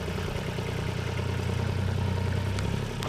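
A tractor engine idles nearby with a steady low rumble and faint mechanical clatter that stays constant throughout, with no voices.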